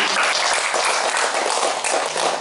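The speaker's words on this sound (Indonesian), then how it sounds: "Tepuk tangan untuk kita semua" A crowd applauds with dense, steady clapping that continues throughout without a break.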